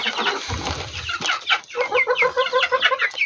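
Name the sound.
chickens clucking while being fed maize feed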